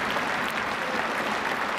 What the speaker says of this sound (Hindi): दोनों हाथ खड़ा करके जोरदार तालियों के साथ हम लोग समर्थन करें